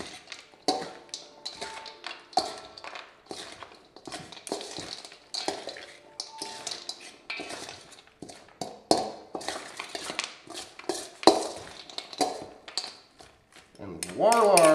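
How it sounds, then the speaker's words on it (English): Caesar salad tossed in a bowl from the bottom up, with soft scattered taps, crunches and utensil clinks close by, a few sharper pings near the end. "we toss the Caesar from the bottom up, like a volcano"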